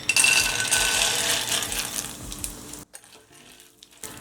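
Peanuts roasting in a tablespoon of hot oil in a pan over a low flame: a dense, steady sizzle with faint crackles and scraping stirs, close and continuous, dropping to near quiet for the last second or so.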